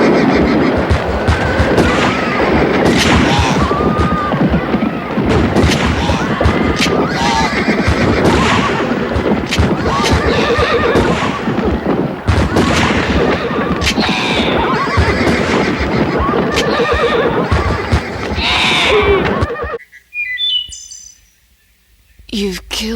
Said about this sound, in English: Who forgot to tie up the damn horse?